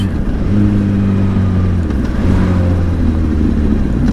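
A Honda CBR1000RR Fireblade sportbike is ridden at an easy pace. Its engine gives a steady, close mid-low drone that stays constant throughout, with wind rush over it.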